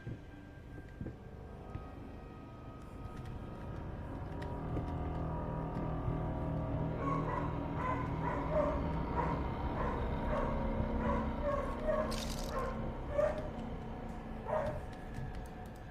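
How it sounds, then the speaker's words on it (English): A neighbour's dog barks at a distance, a string of faint, muffled yips and barks in the second half over a constant low hum of background noise, heard alone without talk. "That's the neighbor's dog."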